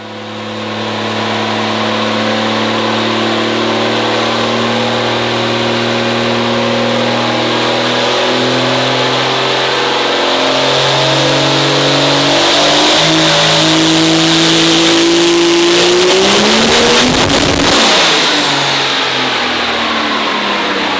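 A nitrous-fed race car engine runs on a dyno in one loud, continuous pull. The revs climb steadily for most of the run, then peak near the end and drop off sharply. No voices are heard.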